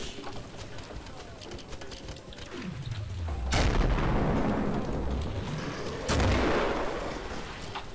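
Grenades explode in the video game Killing Floor: two loud, close blasts a few seconds apart, each a sharp crack followed by a long rolling rumble, over a busy layer of game noise.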